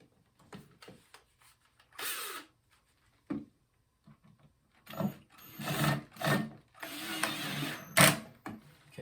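Short bursts of mechanical whirring and clicking from a screw being driven into a toilet seat hinge, coming in uneven spurts with quiet gaps between them, close by.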